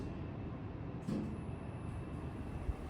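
Otis Gen3 machine-room-less traction lift travelling up between floors: a faint, steady low rumble and hum fills the whole stretch, with one soft clunk partway through.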